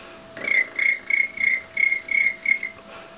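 A girl imitates a cricket with a string of eight or so short, high, even chirps in a regular pulse, close up but fairly soft.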